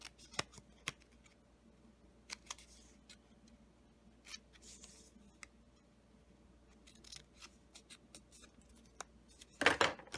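Scissors cut a paper tab for a handmade Christmas card: faint, sparse snips and paper rustles in a quiet room, ending in a brief louder burst of handling.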